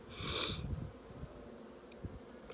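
A frame of honey bees held up from an open hive, their buzz rising loud and near at first, then settling into a soft steady drone with a few light bumps and taps.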